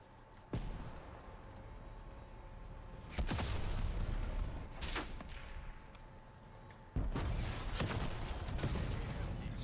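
Tank in Black Ops Cold War fires three heavy booming cannon shots, each followed by a lingering rumbling tail, at irregular intervals over sustained battle noise.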